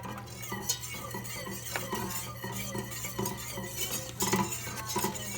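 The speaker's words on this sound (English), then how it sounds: "so now we're whisking judiciously here" A whisk working a cheese sauce for baked mac and cheese in a pan, continuous quick metallic tapping and scraping against the pan with a low background hum, no talking.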